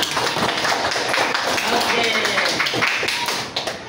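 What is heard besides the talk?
classroom applause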